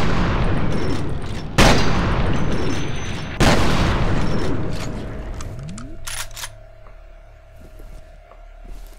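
Two loud, booming shotgun blasts a couple of seconds apart in the video game F.E.A.R., followed by a rising mechanical whine and a few sharp clicks.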